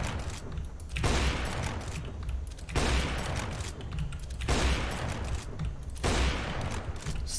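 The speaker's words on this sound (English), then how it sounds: "an AWP is a weapon where you will need to wield its power" AWP sniper rifle fire in a first-person shooter game, four heavy broadband bursts spaced about every one and a half to two seconds, each ringing out and decaying over a steady low rumble.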